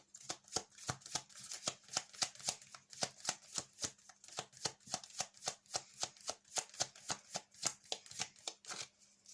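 Tarot cards being shuffled close up, producing a long, even series of soft riffling flicks at a steady brisk rhythm, fairly quiet and with no voices.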